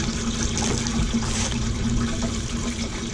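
Water gushes and sloshes steadily into and through a rusty metal fuel tank as it is flushed out, a loud continuous rushing with a faint hum beneath.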